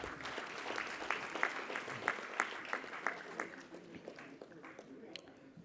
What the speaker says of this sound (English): Round of applause for our mentors,